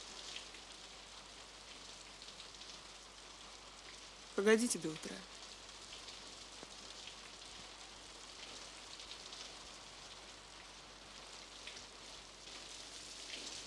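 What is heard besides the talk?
rain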